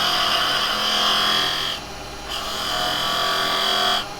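A woodturning lathe spins while a carbide chisel cuts the wood with its bevel, a loud steady shearing hiss that breaks briefly mid-way and resumes.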